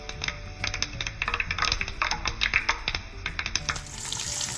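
Mustard seeds and a pinch of hing sizzle and crackle steadily in hot oil in a pan, with dense popping close by that keeps going for the whole stretch.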